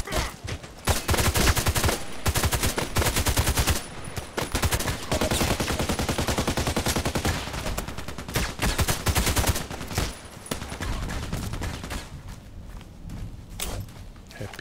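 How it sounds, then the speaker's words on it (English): Sustained rapid gunfire from an HK417 rifle in a shooter game, with dense, loud bursts of shots packed together over nearly the whole stretch and only brief pauses between them. "It's like two or three shots at the body."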